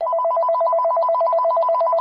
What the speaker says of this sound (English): my mobile phone rang